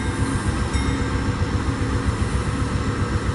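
Amtrak passenger train passing eastbound on CN track, a continuous heavy rumble of wheels and engine with rhythmic low pulsing, close and steady with no voices.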